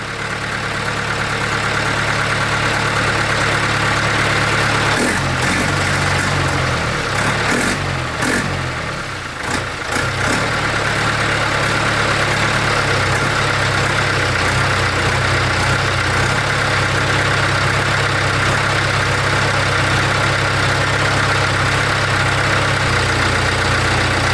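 Diesel engine of a 1964 Ford 4000 Rowcrop tractor idling loud and close, a steady low rumbling chug with a short rough, uneven patch partway through before settling back to an even idle.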